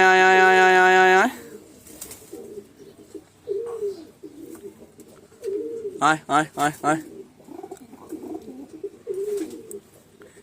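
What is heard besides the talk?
pigeons cooing in a loft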